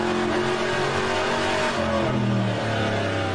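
A racing car engine in rFactor 2 with the Aussie Legends mod revs steadily, its harmonic tones rising and falling through gear changes, loud and continuous with no talking.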